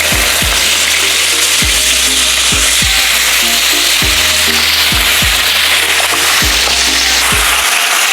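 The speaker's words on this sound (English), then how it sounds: "Now on the same pan, we're gonna brown our pork chops" Pork chops for Filipino pork steak sizzle and fry loudly in a pan, a constant hiss with repeated low thumps and scrapes as the meat is moved around.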